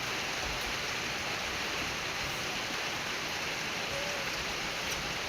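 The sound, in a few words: rain falling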